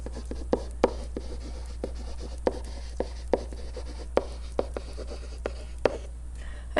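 Marker or pen writing out a math equation, point-slope form, on a board: a steady run of short scratchy strokes with sharper taps, close and fairly quiet over a low constant hum, no talking.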